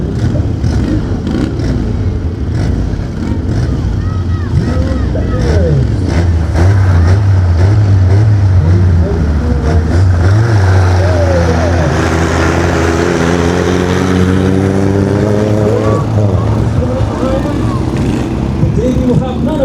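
Vintage dirt drag racing cars roar down the strip, engines loud and close with rising revs and a long pass sweeping by, while an announcer talks over the noise.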